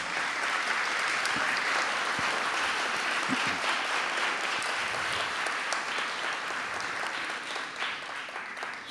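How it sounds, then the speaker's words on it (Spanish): An award ceremony audience applauds for several seconds, a dense, sustained burst of clapping that tapers slightly at the end. "para quienes pido un fuerte aplauso,"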